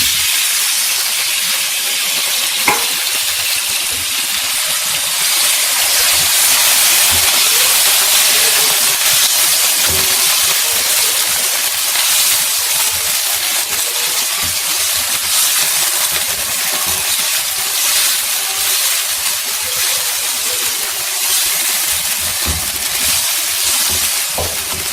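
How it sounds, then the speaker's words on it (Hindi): Chicken pieces sizzling in a karahi on top of lightly fried ginger-garlic paste, a loud, steady hissing fry that keeps going without a break, with a few faint clinks and no one speaking. "अब हम इसमें ऐड कर देंगे चिकन।"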